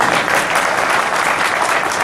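Audience at a Jain religious sermon claps in a steady, dense burst of applause, loud and continuous for about two seconds with no talk over it.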